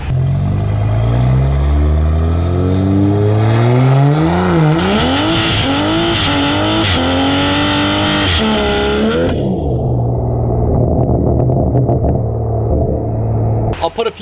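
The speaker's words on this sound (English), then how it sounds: "I'm gonna put in a clip here where I actually went first through 6 because it was so wet out, the car just kept spinning every single gear" A Toyota A90 Supra with a titanium exhaust and a new turbo accelerates hard through the gears on a wet road, its loud engine climbing in pitch with each gear, dipping briefly at every shift, then settling to a steady, lower drone.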